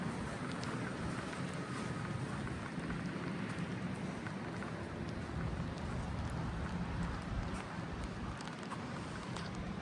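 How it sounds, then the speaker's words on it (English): Steady rain hisses down continuously on a river cruise boat in the Rhine Gorge in winter, a dense wash of drops pattering on surfaces, fairly faint and unbroken with no voices. "It's cold. It's raining out here."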